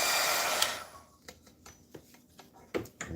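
A hot-air heater's steady blowing roar fades out over the first second, leaving faint scattered clicks and light handling taps of packaging work nearby.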